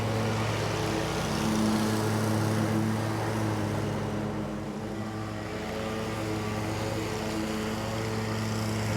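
A Toro Z-Master 4000 zero-turn lawn mower cutting tall wet grass, its engine droning loudly and steadily up close with a low hum that dips slightly midway.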